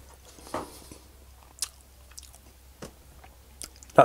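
Soft, wet chewing of mushy peas from an Australian pie floater, with a few scattered close mouth squelches and bites separated by quiet pauses and no talking.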